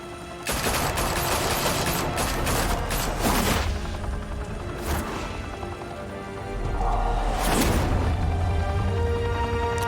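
Gunfire in the Batman: The Telltale Series video game comes as dense bursts of rapid shots with sharp cracks and booms, loud and close, easing briefly mid-clip before another heavy volley.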